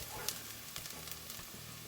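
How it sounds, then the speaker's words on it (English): Onions and garlic frying in a pot as the base for dilled potato soup, a soft steady sizzle with a few small pops and stirring scrapes, close and quiet with no talk. "these are starting to get a little soft, and onions are browning, garlic's browning"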